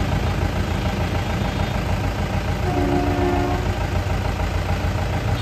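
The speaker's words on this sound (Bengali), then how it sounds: "এই দেখো একটা ট্রেন যাচ্ছে" A distant train passes through the Dooars hills near Sevoke, heard as a steady broad rumble with a faint, brief horn-like tone midway, under constant wind or engine noise.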